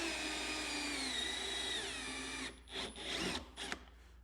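A power drill bores a hole through a 2023.5+ Harley-Davidson saddlebag with a slightly larger bit, a steady whining drone for about two seconds that breaks into short bursts as the hole is widened.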